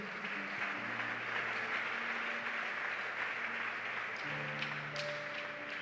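A church congregation applauds, a continuous wash of clapping heard from a moderate distance, with sustained organ or keyboard tones playing underneath.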